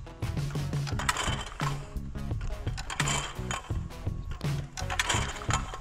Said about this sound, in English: in ATA mode only, where the machine's just oscillating side to side